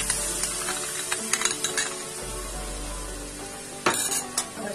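Fresh malai cream is stirred into spices frying in a pan for a malai makhana curry, with a steady close sizzle under scraping, a few light utensil knocks and no voices.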